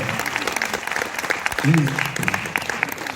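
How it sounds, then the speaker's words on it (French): Audience applause at a Celtic circus show at a children's festival in Carhaix, a steady wash of clapping with a brief voice rising partway through. "Bravo! Sous vos applaudissements"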